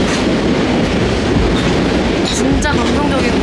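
A train rolls past a coffee spot in Japan with a steady loud rumble and clickety-clack of wheels on rails, a brief wheel squeal near the end, while people talk nearby.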